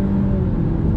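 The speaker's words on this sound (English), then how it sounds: "Another acceleration test as we're rolling on throttle." 2020 Honda Civic Sport Hatchback with a CVT and simulated gears, rolling on throttle: a steady, moderate engine hum and road rumble heard from inside, lasting about a second with no talk.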